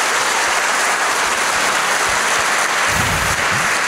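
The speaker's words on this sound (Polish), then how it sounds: "Brawa za ten medal właściwie i za te wyznania." Audience at a festival talk session in Poland applauds a medal, a steady dense wash of clapping filling the whole stretch, loud and continuous with no speech over it.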